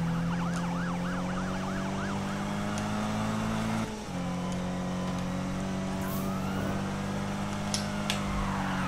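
Wailing police sirens sweep up and down over a loud engine revving through a street chase in Need for Speed (2015), alone without voices, with a brief dip near the middle before the sirens resume.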